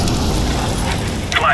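A smoke grenade thrown in Counter-Strike: Global Offensive lets out a brief hiss near the end, rising over dense, noisy game ambience with voices talking.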